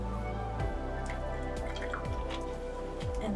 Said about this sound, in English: I'm gonna add some water to that one because that one thickened up